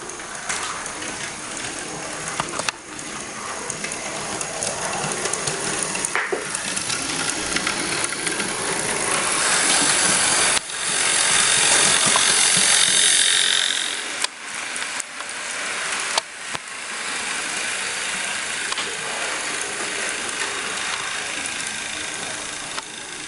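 Two Hornby Edward model locomotives, models R9232 and R9289 from the Thomas and Friends range, running on track with a steady whirring motor and mechanical gear clatter, rising and falling with brief dropouts, sounding rough and unhealthy.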